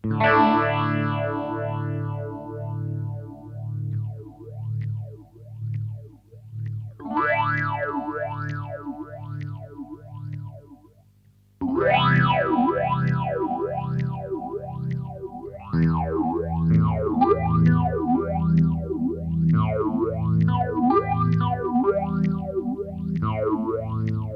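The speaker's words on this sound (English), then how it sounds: "it goes into sort of almost self-oscillating, and it gets kind of noisy" An Electro-Harmonix Bad Stone phaser pedal on an electric guitar swirls and sweeps as it self-oscillates, producing hissing, squelchy, warbling tones that pulse rhythmically and grow louder.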